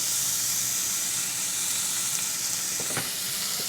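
Food sizzling as it cooks alongside burgers on a hot surface, a constant close frying hiss with a couple of faint clinks near the end and no talking.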